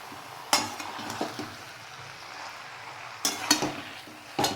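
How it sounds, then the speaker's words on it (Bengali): Boiled cabbage being stirred in a pan for a vegetarian cabbage ghonto with potato and peas, giving soft scraping and sizzling under a steady frying hiss, with a few sharper spoon-against-pan clacks, close by, with no talking. "সিদ্ধ করা কপিটা আমি এর মধ্যে দিয়ে দিচ্ছি এবার আমি এটা নেড়ে নেব খুব ভালো করে একটু নেড়ে নিতে হবে"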